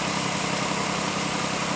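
A Pontiac Aztek engine idles with a steady, dense mechanical drone and a raspy exhaust-manifold hiss, constant and close throughout with no variation.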